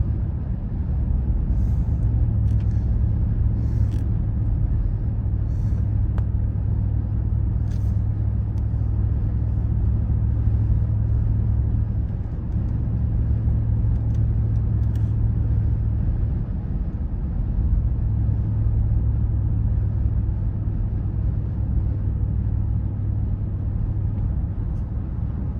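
A car climbs a snowy mountain road through low cloud near Mammoth, its steady engine rumble and road noise continuous and close throughout, with no talking.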